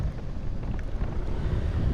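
Strong gusting wind buffets a riding motorcyclist, heard as a low, rumbling roar of wind noise on the microphone that pulses steadily throughout.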